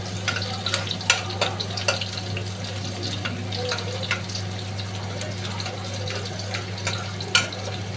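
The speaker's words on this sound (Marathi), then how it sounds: "इथे लसूण घालते आहे। लसूण चांगला परतून घ्यायचं आहे" Garlic frying in hot oil with mustard seeds, cumin and curry leaves gives off a steady close sizzle, with scattered sharp pops and spatula scrapes over a constant low hum.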